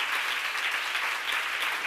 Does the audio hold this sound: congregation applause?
yes